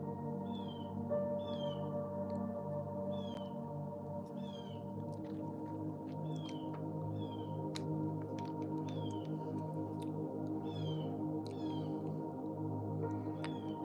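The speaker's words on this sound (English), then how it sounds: "Do you hear that? That's a hawk outside." A hawk calls repeatedly from outdoors, with short, faint, high cries at regular intervals heard from indoors over a steady low room hum.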